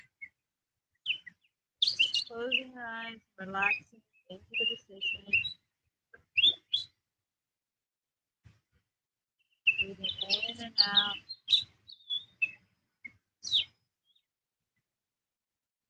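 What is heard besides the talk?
birds chirping outdoors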